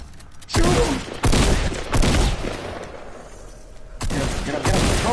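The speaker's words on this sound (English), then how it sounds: "I just turned and shot." Shotgun blasts in Fortnite Battle Royale: four or five heavy, booming shots in fairly quick succession, loud and close, with short gaps of game ambience between them.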